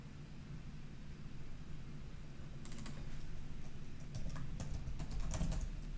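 Computer keyboard keys tapped in short scattered clicks, including the backspace key, close and fairly quiet over a steady low hum, with a few bursts clustered in the second half and no talking.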